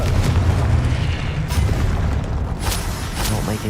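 A spell blast from a Hogwarts video game fills the scene with a continuous booming rumble and a few sharp pops, all loud, with a voice faintly present in the mix.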